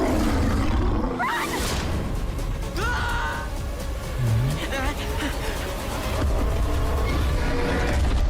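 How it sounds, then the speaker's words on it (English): A saber-toothed tiger roars in a Jurassic World Camp Cretaceous trailer, a rumbling growl under loud cinematic music and effects, with someone talking over it. "Oh. Saber-toothed tiger."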